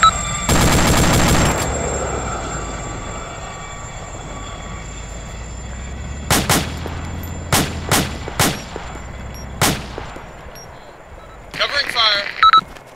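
Rapid automatic gunfire in Arma 2 rattles out in a loud opening burst, followed after a pause by several sharp single shots spaced irregularly, with faint radio-like chatter near the end.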